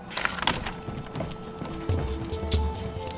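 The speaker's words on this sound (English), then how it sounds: "Horses." Horses' hooves pulling a carriage in the video game Lost Legends of Redwall, uneven clip-clop footfalls with low rumbling and faint tonal background music.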